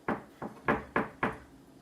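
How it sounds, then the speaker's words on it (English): Knocking on a door: five sharp, evenly spaced raps, close and clear with no other sound around them. "and they knocked on the door."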